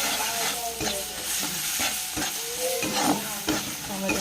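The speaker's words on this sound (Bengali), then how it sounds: "টমেটো দিয়ে দেবো" Tomatoes tipped into a hot pan with turmeric, chili powder, cumin powder and salt, then stirred, giving steady close sizzling broken by repeated scraping strokes of a spatula against the pan.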